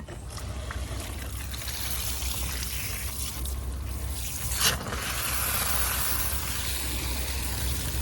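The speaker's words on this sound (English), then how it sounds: "Let me get some water on that before I place it." Water is poured onto a Time In A Bottle hosta in a garden before planting, a continuous splashing trickle close by that swells slightly toward the end.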